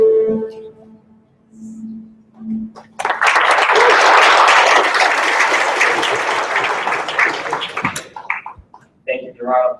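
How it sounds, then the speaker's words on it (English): Audience applause bursts out loudly at a tech-company event in Indonesia, a dense sustained clapping wash lasting about five seconds before fading, with a speaker's voice briefly heard before and after. "Thank you for your round of applause."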